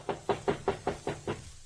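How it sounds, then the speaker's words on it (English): Seven evenly spaced knocks on a hotel room door, firm and close, rapped in a steady rhythm with no voices. "A knock on the door produced results."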